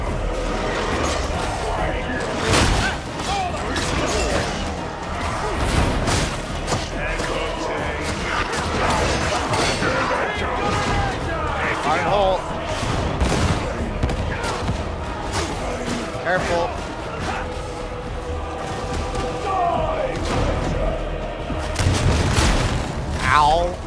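Grenades burst repeatedly in Warhammer 40K: Darktide, loud booms and crashes layered over constant gunfire and combat clatter, while voices talk throughout.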